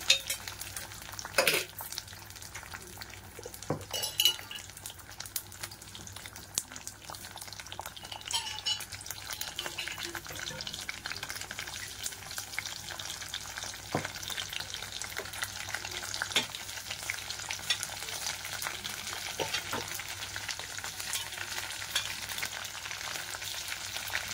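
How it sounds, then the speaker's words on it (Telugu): Dried red chillies, garlic and curry leaves fry in oil in a kadai, giving a steady sizzle with occasional stirring clinks and scrapes, close and moderately loud throughout, with no talking. "అది ఎండుమిర్చి, వెల్లుల్లి, కరివేపాకు, ఇప్పుడు నూనె వేసుకోండి"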